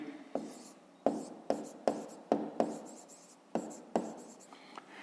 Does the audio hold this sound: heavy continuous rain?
no